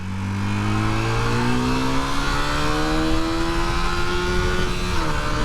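A Honda CB250 Super Dream motorcycle engine revs hard as the bike climbs a hill, its rising harmonic drone loud and steady for several seconds, pitch climbing gradually before a brief dip near the end.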